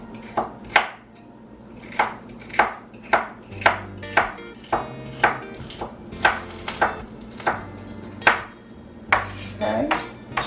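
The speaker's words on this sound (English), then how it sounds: "And I cut them kind of small because sometimes it takes a little longer for the celery to cook." Celery is chopped into small pieces with a knife on a cutting board, about twenty crisp, evenly spaced thunks, close and clear, with a faint low hum beneath and no talking.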